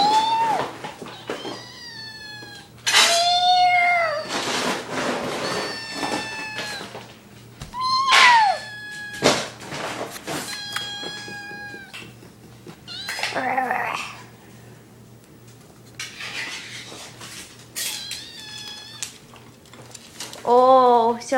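A hungry kitten meows repeatedly at close range, with insistent rising cries in irregular bursts, some stretching into drawn-out wails, while a person talks softly between them.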